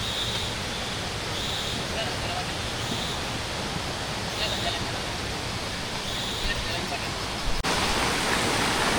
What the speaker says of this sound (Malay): Okey, kita sampai kat sungai ini